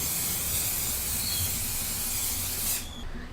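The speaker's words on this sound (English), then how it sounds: "spray the tray" A continuous close hiss of an aerosol oil spray coating a baking tray runs for a few seconds, then cuts off abruptly.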